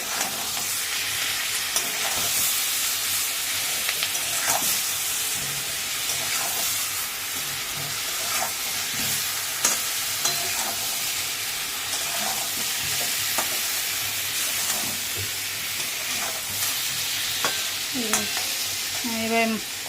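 Onion paste frying in oil for a meat curry, stirred steadily in a pan: a continuous broad sizzle with repeated spoon scrapes throughout, close and fairly loud, no voices.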